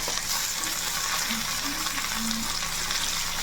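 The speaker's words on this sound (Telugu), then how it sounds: "ఇప్పుడైతే మనం రొయ్యలు వేసేసుకుందాం" Large prawns go into a hot pan for a gongura prawn dish, giving a steady close sizzle and crackle of frying with faint stirring and no voices.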